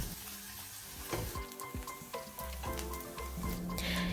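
Soaked beetroot poha is stirred gently in a pan over low heat, giving a soft continuous sizzle broken by scraping, scooping strokes of the spoon against the pan.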